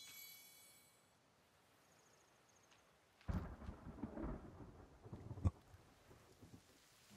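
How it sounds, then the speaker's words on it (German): In the video game The Forest, quiet at first, then a broad rumble of thunder rolls in with the patter of rain, building and fading over several seconds with a sharp crack near the end. "Oh, es regnet. Regen ist gut."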